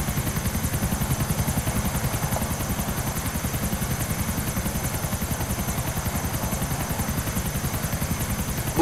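A helicopter in the video game GTA IV drones with a loud, continuous rotor thump, rapid steady chopping pulses over an engine whine, constant throughout with no speech.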